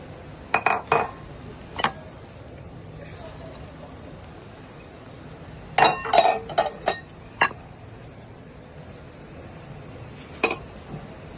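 Dry fruits tumble into a metal pot for zarda sweet rice, making bright clinks and rattles in two short clusters with a single later tap, set against a quiet room.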